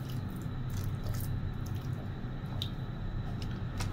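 White vinegar is poured into a cooking pot for paksiw with ampalaya, making a steady, close splashing trickle with light drips throughout and no talking.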